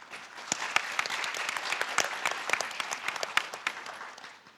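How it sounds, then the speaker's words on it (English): Conference plenary audience breaks into applause, a crisp, dense burst of many hands clapping that swells and holds for several seconds before thinning out, with no voices over it. "How about a round of applause for these headlines?"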